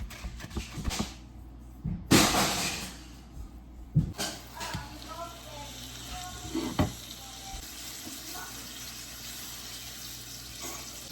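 Beef steak frying in a pan, a steady low sizzle with intermittent clatters and scraping, plus some watery splashing and faint talking in the background.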